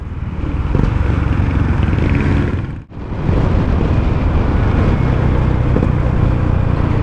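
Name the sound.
motorcycle engine with Beambox Racing exhaust pipe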